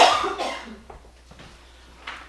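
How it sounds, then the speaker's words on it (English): A short burst of coughing close to the microphone, followed by a few fainter coughs or throat sounds. "I'm going to have to step out, Calvin. I'm coughing."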